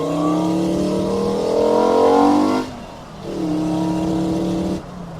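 A 5-cylinder-swapped Mk2 Golf GTI running low on fuel accelerates hard: a loud, rising engine note climbs for a few seconds, cuts out abruptly, then pulls again more briefly before dropping off once more.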